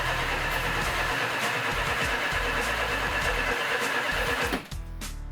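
A Plymouth Superbird engine being tuned, with timing set retarded. It runs rough and loud up close with an uneven chugging low end and a dense noisy roar, then abruptly drops away near the end.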